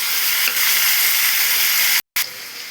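Cut tomato pieces dropped into hot oil, a loud close sizzle and hiss that fills the sound, cut off by a brief gap of silence before the frying resumes slightly quieter.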